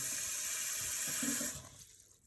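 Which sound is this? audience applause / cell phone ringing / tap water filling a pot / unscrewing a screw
tap water filling a pot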